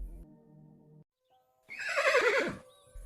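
A tired horse lets out a single loud neigh, a shrill, wavering whinny lasting about a second, heard close and alone after a brief quiet stretch.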